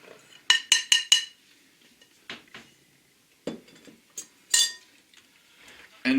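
Batter being mixed in a bowl for a Boston cream pie cake, with a quick run of four sharp utensil clinks against the bowl, then scattered softer scrapes and taps spread out over several seconds.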